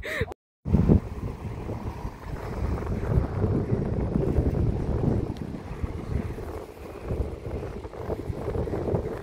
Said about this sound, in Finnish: Tässä ei varmaan kuulu mitään, kun täällä tuulee niin paljon.